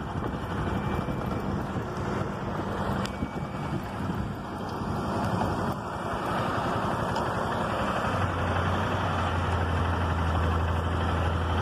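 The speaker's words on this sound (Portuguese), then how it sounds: "Trator fazendo terraplanagem ali" Tractor doing earthmoving and grading work at a new housing subdivision, its engine a continuous loud rumble mixed with wind buffeting the microphone, deepening into a steadier low drone near the end.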